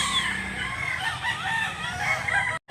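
Young rooster, a stag, crowing close by in one drawn-out call, with faint background noise and a brief cutout at the end.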